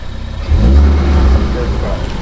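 An MGA sports car engine rumbles close by while driving, swelling into a deep, loud rev for about a second before easing back to a steady drone.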